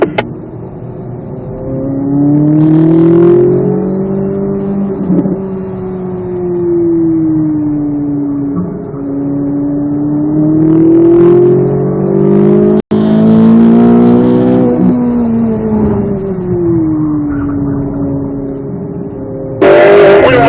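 A Corvette Z06 accelerates on a race track during a driving school session, its engine droning loudly and steadily with pitch rising and falling through the throttle, ending in a brief burst of higher noise.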